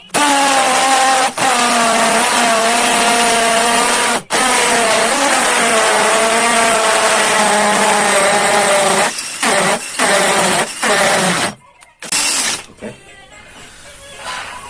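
An NTR Pro DC 340 cordless impact drill runs loud and close with a steady high whine and hiss, cutting out briefly a few times before stopping near the end.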